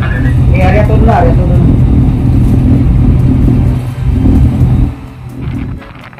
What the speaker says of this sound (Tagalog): Yung dalawang makina, naka-andar na.